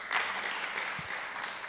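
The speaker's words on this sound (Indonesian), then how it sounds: "Yang setuju tepuk tangan bagi Tuhan" A congregation at an Indonesian church worship service claps together, a brief, even burst of many hands applauding at moderate loudness in a reverberant hall.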